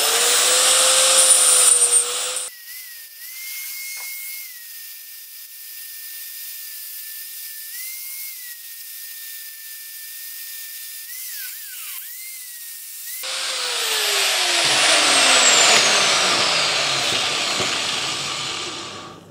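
A drill works through a steel saw blade, a loud grinding whine at the start, a long steady high-pitched tone in the middle, then a rising harsh grinding that slowly winds down.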